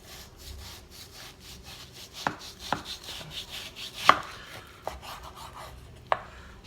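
A knife slicing beef into wide pieces for jerky, soft rubbing strokes punctuated by several sharp, distinct chops on the board, fairly close and moderately quiet, with no talking.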